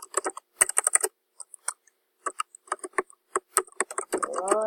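Bursts of clicking keystrokes on a computer keyboard, close and crisp, come in quick uneven runs with short pauses, and a voice begins speaking at the very end.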